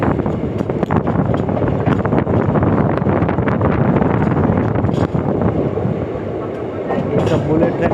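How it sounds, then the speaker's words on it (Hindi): A WDV4 single diesel locomotive approaches on the line near the Sabarmati River at Ahmedabad, a loud, continuous rumble of rail and wheel noise heavily buffeted by wind across the microphone throughout. "WDV4 सामने से आ रहा है, देखिए WDV4"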